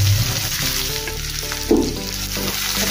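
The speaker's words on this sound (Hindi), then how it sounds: "अभी इसमें हम प्याज डालेंगे बारीक कटा हुआ और हरी मिर्च डाल देंगे।" Finely chopped onion and green chilli fry in hot oil with cumin and asafoetida for okra curry. A dense, loud, continuous sizzle with stirring scrapes and one brief clatter, and no voices.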